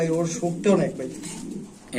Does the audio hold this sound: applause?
no